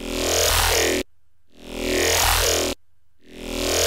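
Synth bass with the WoW filter turned on, sounding as loud sustained notes that swell with a moving filtered tone and cut off abruptly, with brief quiet gaps between them and no voices.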